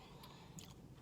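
Crunchy bites and chewing of a Panera cinnamon crunch bagel, a sweet bagel with a crisp sugary topping, heard close up and faint with a few sharp crunches.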